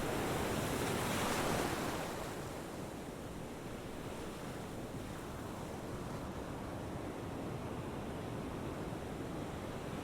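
Ocean waves wash onto a beach at sunrise in a continuous broad roar of surf with wind rushing over it, swelling briefly near the start and then holding steady, with no voices.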